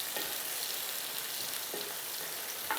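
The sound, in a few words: onions sautéing in a pan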